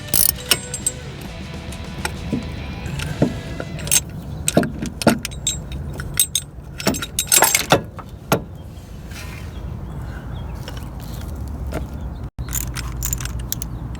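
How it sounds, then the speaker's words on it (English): Bolts being removed from a harmonic balancer puller on a Toyota engine, with ratcheting clicks, metallic clinks and jangling tool sounds in irregular bursts, close up with no speech. "Just taking the bolts out here."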